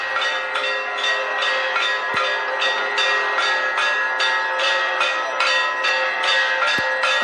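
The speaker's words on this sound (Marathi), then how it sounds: "यावेळी मंत्रोच्चार सुरू असतात, घंटानाद आपल्याला ऐकू येतोय।" Temple bells ring continuously during the Ram Lalla aarti at Ayodhya on Ram Navami, a loud, fast, rhythmic metallic clanging that never stops and stands alone without talk.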